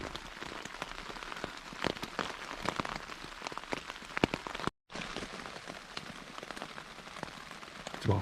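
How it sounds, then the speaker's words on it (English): Heavy rain drums on a Lanshan 1 Plus tent pitched in the woods before dawn, a dense, continuous patter with sharper drips hitting the fabric close by, broken only by a brief cut. "The rain's still really heavy."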